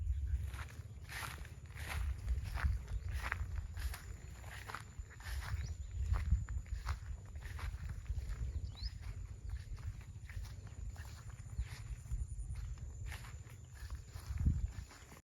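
Footsteps walking along a path on a Thai garden farm beside sweet grass grown for cattle and a pond, a steady run of regular steps heard close and moderately loud over a low outdoor rumble.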